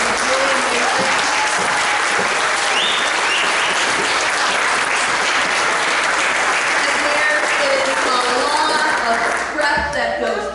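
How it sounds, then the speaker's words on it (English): Sustained applause from a church congregation at a Sunday worship service, honoring volunteers and kids, a dense steady wash of many hands clapping for about ten seconds and thinning slightly near the end. "all the volunteers and the kids and Lee need a round of applause"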